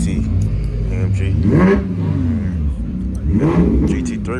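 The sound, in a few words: GT3 sports car engine revving at a car show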